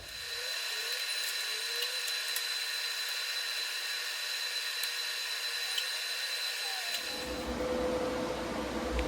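Steady, loud mechanical whine of a bandsaw cutting a metal part for a turbocharged Harley-Davidson build, running continuously with no speech, then shifting to a rougher, heavier tone near the end.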